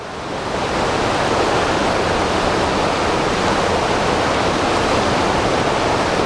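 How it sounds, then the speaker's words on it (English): Water pouring between timbers in an abandoned mine, a loud, dense, unbroken rushing roar that fills the space with no other sounds. "Water pouring between the timbers."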